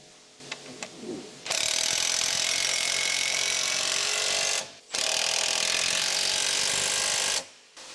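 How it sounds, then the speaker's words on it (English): Electric impact wrench with a 14mm deep socket tightening the rear bushing mounting bolt on the lower control arm of a 2007 Honda CR-V, running in two loud sustained bursts of whirring and hammering after a few light clicks, with a brief pause between. "Use a 14mm deep socket with an electric impact wrench to tighten the mounting bolt for the rear bushing of the lower control arm."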